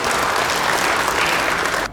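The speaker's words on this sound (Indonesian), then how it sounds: "Kita kasih tepuk tangan dulu." Audience applause at a Kupang city development planning meeting (musrenbang) attended by the governor; dense, steady clapping from a large crowd fills the room for about two seconds, then cuts off abruptly.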